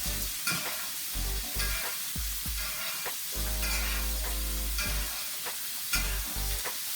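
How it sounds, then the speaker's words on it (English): Food basting in a hot pan with a spoon, the steady loud sizzle of fat broken by repeated metallic scrapes and clinks of the spoon against the pan, with a longer unbroken hiss in the middle. "Tilt your pan, use your spoon, and baste."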